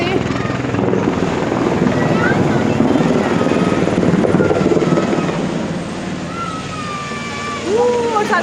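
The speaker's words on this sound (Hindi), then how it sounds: "हेलीकॉप्टर की आवाज़ आई होगी आपको" A helicopter flies over Katra near the Vaishno Devi shrine, its loud steady rotor chop and engine drone filling the air, with children's voices and chatter underneath.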